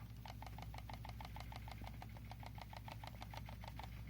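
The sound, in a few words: computer mouse sensor rattling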